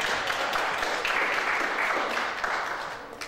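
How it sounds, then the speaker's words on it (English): Audience applause at a school board meeting for the business office, a steady round of clapping from a modest crowd in a meeting room, sustained throughout and fading slightly at the end. "So they have another round of applause for our business office."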